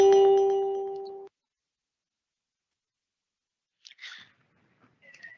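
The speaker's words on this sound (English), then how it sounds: "We get a loud ringing sound when we're invited into a consultation room to alert us that we're being invited in." A loud electronic ringing alert inviting a participant into a video hearing consultation room, sounding as a sustained tone for about a second before cutting off, followed by silence and a few faint clicks.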